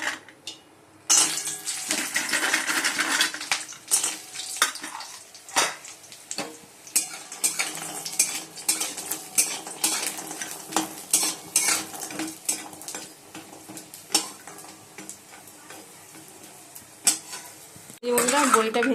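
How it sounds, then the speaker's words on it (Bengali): Lentil dumplings (bori) fry in hot oil in a wok, with scattered sizzling, a spoon stirring and scraping against the metal, and sharp clinks of utensils. A voice speaks briefly at the start and near the end. "কড়াইতে তেল দিয়ে দিচ্ছি, গরম হয়ে গেছে। এবার বড়িগুলো ভেজে নেবো।"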